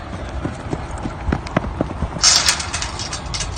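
Horse hooves clip-clop in an irregular run of sharp knocks over a busy background murmur, fairly close, with a brief bright high sound partway through.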